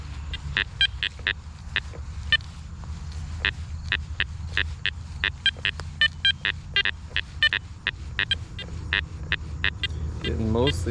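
Garrett Apex metal detector sounding target tones while hunting, a rapid run of short, close beeps in an irregular rhythm over a low rumbling background, with a falling warble near the end.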